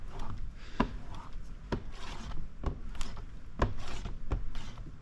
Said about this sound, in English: Go ahead and squeegee this out.